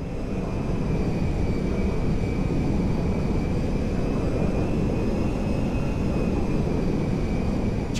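Steady roar of a cargo jet coming in to land at an airfield in Grand Theft Auto V, a loud continuous engine drone with a sustained high whine running through it.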